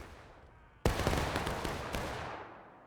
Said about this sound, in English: Not a bad little volley though.